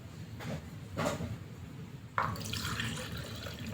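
Water is poured from a cup into a container to make a siomai soy sauce dip. It gives a soft splash and a steady trickling stream, close and quiet, with light clinks before it.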